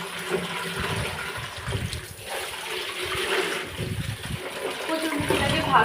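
Peeled taro roots are rinsed by hand in a bowl of water, with continuous sloshing, splashing and trickling close by.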